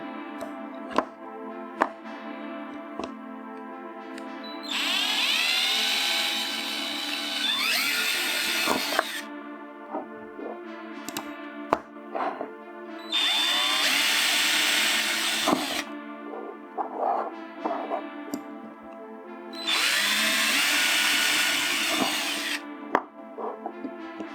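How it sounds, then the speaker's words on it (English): A power drill with a 3mm bit whines in three long bursts drilling a rod, each a few seconds, separated by quieter stretches of clicks and handling noises, close by. "now we use 3mm drill bit to drill"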